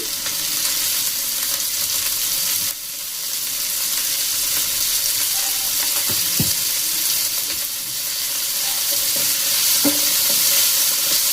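Two small tomatoes frying in a pan with salt give off a continuous bright sizzle, broken now and then by stirring knocks and scrapes of a utensil.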